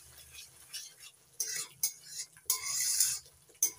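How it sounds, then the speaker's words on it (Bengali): Spice paste with a little sugar being stir-fried in a pan for a vegetarian eggplant dish, with intermittent scraping and clinking spatula strokes over a faint sizzle, quiet between strokes. "এবার মশলাটা ভালো করে কষিয়ে নেব।"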